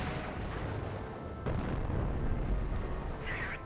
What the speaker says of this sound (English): Incendiary mortar there gets pretty good hit.